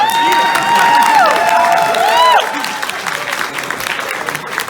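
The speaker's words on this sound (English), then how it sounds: "A round of applause for" A convention crowd at a My Little Pony fan event claps and cheers loudly, with whoops and high shouted calls on top, then settles into lighter scattered applause for the last couple of seconds.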